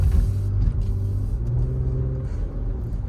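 A 2022 Lexus RX350 F Sport rolls slowly into a parking spot, its engine giving a steady low rumble close by, without any voices.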